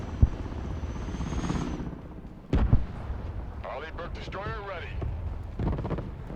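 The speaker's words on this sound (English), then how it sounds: "Force recon taking effective artillery fire." Heavy booms and rumbling blasts of artillery fire in the video game Broken Arrow break out amid a constant roar, with a voice speaking over the noise.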